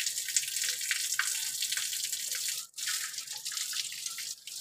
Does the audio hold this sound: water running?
yes